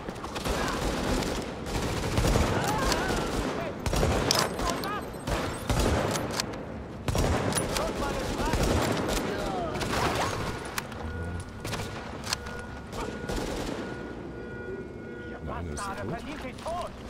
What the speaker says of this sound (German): Ich schieße jetzt?